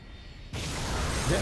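Four Triton engines on the airship Stormborder throttle up to full power in Fate/Grand Order, an abrupt, loud, broad roar that kicks in suddenly and holds steady after a quieter lead-in.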